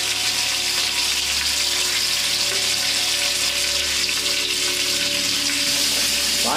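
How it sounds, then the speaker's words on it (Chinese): Fish sears in hot ginger oil in a wok, giving off a steady, loud sizzling hiss with constant fine crackle and no pauses or voices. "鱼都要煎一下的啊，"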